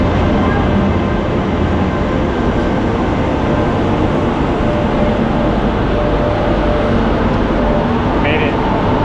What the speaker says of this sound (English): Catching the train back to Lisbon.